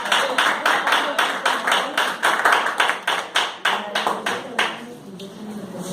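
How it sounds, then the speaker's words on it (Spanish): A church congregation claps in a steady rhythm at a Spanish-language religious service, with loud, regular beats that break off near the end into a brief lull. "Demos un aplauso a Cristo."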